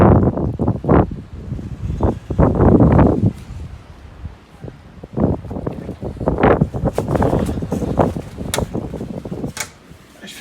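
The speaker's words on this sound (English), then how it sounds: "I feel like the wind's so strong" Strong wind gusts outdoors in loud, irregular rushes that buffet the microphone, with things blowing and rattling around nearby and no one speaking.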